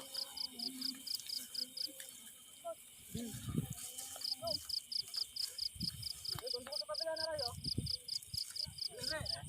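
Crickets chirp in rapid, regular pulses close by, while people talk quietly nearby over the insect sound.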